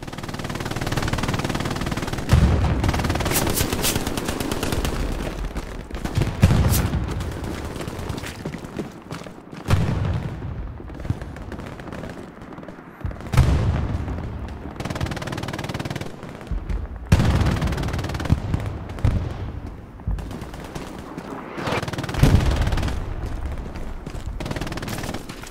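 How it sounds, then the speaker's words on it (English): In the World War II shooter game Hell Let Loose, artillery booms and bursts of rifle and machine-gun fire go off steadily, some close and loud, others distant and rumbling, with no one speaking. "listen, and absorb some of the atmosphere of Hell Let Loose as we hear the artillery, the bullets flying in"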